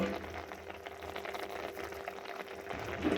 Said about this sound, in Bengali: এদিকে গাজরটা দুধের মধ্যে প্রায় ফুটে এসেছে